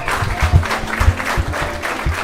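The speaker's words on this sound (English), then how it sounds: "As Bowen gets a round of applause" A crowd at an Edenton Steamers summer baseball game gives a player a round of applause. The scattered clapping from the stands is steady and moderately loud, with low thumps and murmurs underneath.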